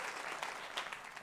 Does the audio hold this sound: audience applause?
yes